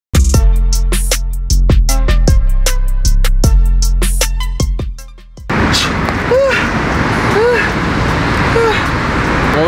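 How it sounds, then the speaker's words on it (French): Road traffic noise from many cars around someone outdoors in the morning, at first a series of sharp repeated knocks, then a continuous wash of passing vehicles with engine rises. "Tu dois l'entendre un peu, il y a plein de voitures autour de moi"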